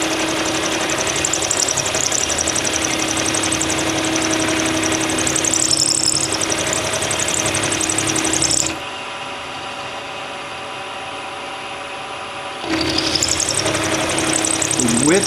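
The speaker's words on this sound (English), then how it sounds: "A small mill, so I get a little bit of vibration" A small milling machine cuts with a half inch end mill, a loud continuous grinding whir with a vibrating hum that briefly drops to a quieter motor drone before the cutting noise returns.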